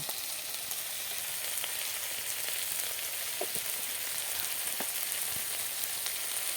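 Turmeric, salt and ginger spices sizzling steadily in a hot pan for a spicy fish curry, a continuous soft frying hiss with a few faint stirring clicks, close and moderately quiet.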